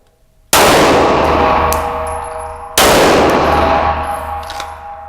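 Two loud Shadow Systems DR920 pistol shots ring out at an outdoor range, each a sharp crack followed by a long ringing decay, spaced a couple of seconds apart with no talk.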